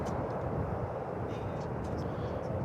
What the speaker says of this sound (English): 1873 and Airbus A319 on its way to Wichita, Kansas. Revving up those engines.